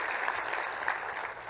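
Applause from a keynote audience at a data community summit, continuous crowd clapping at steady, fairly loud level with a slight fade near the end.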